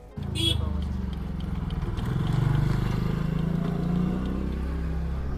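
A first motorcycle's engine with a knocking fault, giving a low rumbling drone with a regular tok-tok pulse running through it, heard close while people talk over it.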